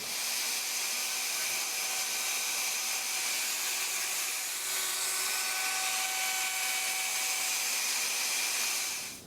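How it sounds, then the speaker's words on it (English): Router cutting a channel into wood during a tenor guitar build, a loud, steady high-pitched whine with a whirring motor tone, close and uninterrupted until it stops at the end. "now I'll just move my router bit over, reduce the diameter about 1/4 of an inch, and then just clean out this center part of this channel"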